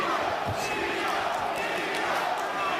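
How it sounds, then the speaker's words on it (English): A New York crowd at a boxing match chants for Brooklyn-born Teofimo Lopez, a dense steady roar of voices filling the arena, with a commentator talking over it. "now you hear the chant from the New York crowd for the Brooklyn-born Teofimo Lopez"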